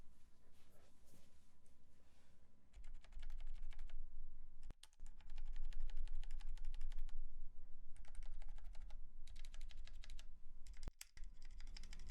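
Typing on a stock GMMK Pro mechanical keyboard with Matcha Green switches, bursts of rapid close-up key clacks separated by short pauses over a low background hum.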